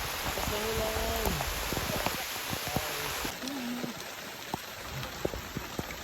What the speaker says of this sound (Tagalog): Lakas ng ulan. Lakas ng ulan.